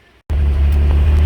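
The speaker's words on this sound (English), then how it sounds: "So back inside the car with the engine running now" A Mitsubishi 3000GT VR-4 engine idles steadily from inside the car, a loud, deep, even hum that cuts in abruptly after a brief silence and holds without revving.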